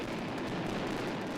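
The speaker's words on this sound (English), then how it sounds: "Fireworks everywhere." Fireworks at Valencia's Las Fallas Festival, a continuous roaring barrage of blasts and crackle packed so tightly it becomes one loud, dense rumble without a break.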